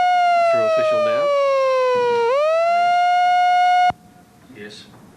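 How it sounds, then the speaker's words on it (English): A race start siren wails at a racecourse, a single loud sustained tone that dips and rises in pitch before stopping sharply, with an announcer talking underneath it and briefly after it ends. "the siren sounding"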